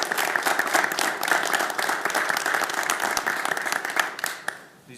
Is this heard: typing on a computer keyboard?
no